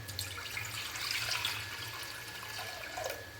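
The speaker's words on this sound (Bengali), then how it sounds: "জল দিয়ে দিলাম।" Water is poured into a pressure cooker on the stove, a steady splashing rush that swells in the middle and then eases off, close by with no talking.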